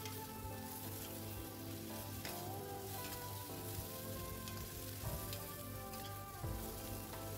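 Vegetables and sausage stir-fry in a pan with a steady close sizzle and crackle, with light scraping and clinks throughout and no talk.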